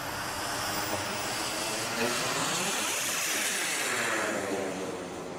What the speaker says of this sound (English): I'm going to need you to help trim this once I get airborne, Nick.